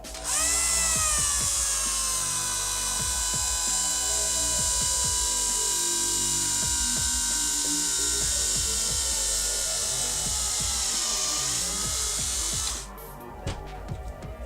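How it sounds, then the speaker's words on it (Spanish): A power drill with a roughly 5 mm bit drilling into an Xbox One controller whines steadily for about twelve seconds with a whirring hum and faint rattling clicks, then winds down and stops. "cogeremos un taladro con la broca del, creo que es la del 5, si no me equivoco. Taladramos por aquí"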